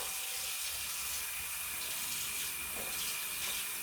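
Pork ribs being rinsed under a kitchen tap, with a steady, full stream of running water that holds constant throughout and has no talk over it.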